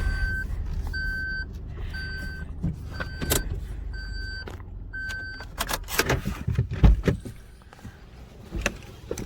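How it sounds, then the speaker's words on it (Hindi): A car being parked in a parking area: a steady reversing beep repeats at a regular pace over a low engine hum, followed by door clunks and handling noises close by. "तो हम हमारी गाड़ी को कर देते हैं पार्क।"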